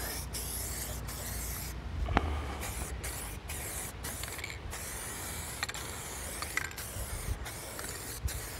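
SEM medium gray bumper coater aerosol paint sprays in steady hissing bursts for automotive trim refinishing, with short pauses between passes and faint clicks of the can, close and continuous with no talking.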